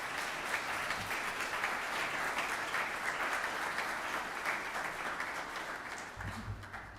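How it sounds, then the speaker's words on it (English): A graduation audience applauds as Brianna is welcomed to the stage, a steady wash of clapping from a large crowd that tapers slightly near the end, with a low thump at the close. "Please give her a round of applause."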